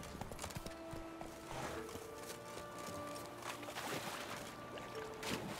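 A horse trots in The Witcher 3 video game, a soft steady clip-clop of hooves under a busy, faint wash of game sounds and tones, with no talking.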